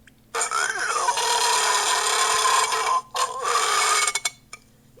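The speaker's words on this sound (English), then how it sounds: "The next one I burp, and I don't know how it picked up this sound" A burp sound effect on a Nintendo 2DS comes out as a harsh, buzzy, electronically warped drone in two long bursts separated by a brief gap, loud and close.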